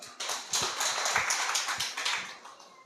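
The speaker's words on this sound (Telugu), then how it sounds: "చప్పట్లు కొట్టండి." A church congregation claps hands together, a dense run of quick, moderately loud claps that slowly taper off, with no talking over it.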